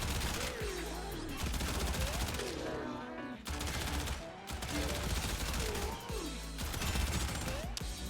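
A Soma Prime rifle fires at enemies in the Warframe video game, in long rapid automatic bursts broken by short pauses, with impact crackles layered over the sustained gunfire.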